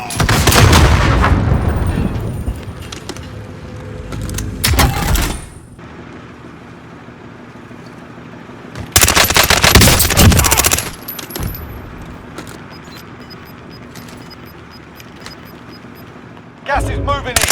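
Bursts of Purgatory ISO submachine gun fire in Call of Duty Warzone, loud rapid volleys in three separate stretches with quieter gaps between them.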